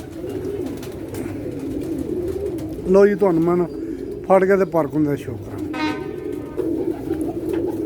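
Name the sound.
Lakha flying pigeon cooing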